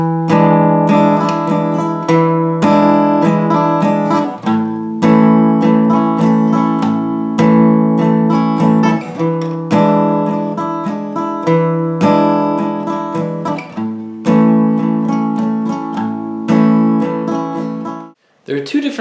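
An acoustic guitar strums a song's strumming pattern, a bass note followed by down, down, up, down, up strokes. The strumming is steady, bright and continuous, with one brief pause near the end.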